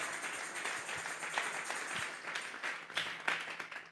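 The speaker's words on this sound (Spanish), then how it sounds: "Vamos a regalarle ofrenda de palmas al Dios de la gloria." A church congregation claps in offering to God, a fairly quiet, uneven patter of hands with distinct individual claps standing out, heard from a moderate distance without talk.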